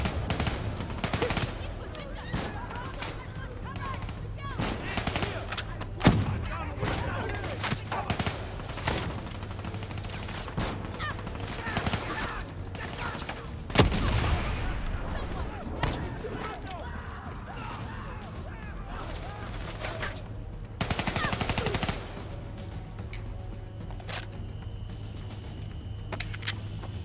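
Sustained machine gun fire from an enemy gunner during a Call of Duty: Black Ops 3 campaign mission, steady bursts and impacts layered with explosions, music and speaking voices throughout.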